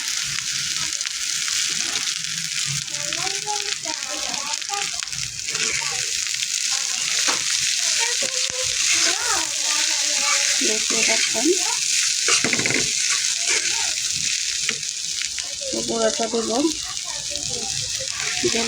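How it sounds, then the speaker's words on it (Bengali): Moringa leaves frying with already-fried onions and salt in a pan, giving a steady, loud, dense sizzle with stirring, while a voice talks quietly underneath throughout. "এখন আমি সজনা পাতাগুলো দিয়ে দিব"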